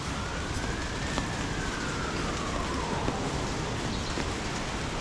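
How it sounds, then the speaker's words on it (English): An ambulance siren wails faintly in the distance on Rua de Sanches de Miranda in Macau, near a hospital, rising and falling once over steady city hiss and traffic. "if you can hear the ambulance in the distance"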